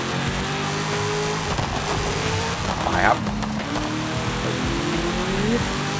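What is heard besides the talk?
Hennessey Venom GT engine in Forza Horizon 5 video game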